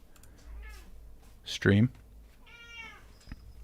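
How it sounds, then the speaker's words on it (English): A cat meows loudly once, close by, in a short burst in the middle, while someone talks before and after it. "Sorry, this cat really is"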